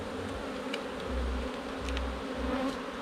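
Honey bees swarm over a frame lifted from an open beehive where swarm cells are forming, giving a dense, steady buzzing drone that stays close and loud throughout with no voices.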